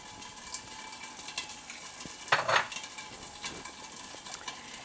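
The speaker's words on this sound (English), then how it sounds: "the little popping sounds that you hear right now is I have asparagus" Asparagus sits in a hot pan, and a soft sizzle carries through it with a few small pops and one louder crackling burst near the middle, with no talk.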